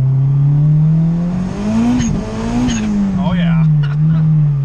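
A Honda Integra with an anti-lag tune accelerating hard in second gear, its loud, rising engine note dipping and climbing through the run with tire squeal, as a man briefly exclaims.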